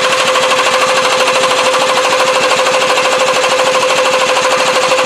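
A Ford 3.7 Duratec engine runs loud and close with a rapid, steady, rattling mechanical pulse throughout, with no talk.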